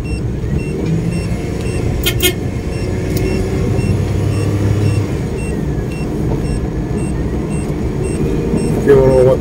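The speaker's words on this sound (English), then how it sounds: "If you don't know what the beeping is, that's my voltmeter." Faint, regularly spaced electronic beeps from a voltmeter repeat over the steady rumble of a Suzuki DA64V vehicle interior, with a voice speaking at times in the background.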